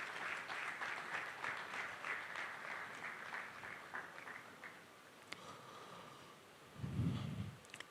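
Audience at a tech panel discussion applauds a speaker taking the stage, a soft, distant clapping that thins out over several seconds, with a brief low thump near the end.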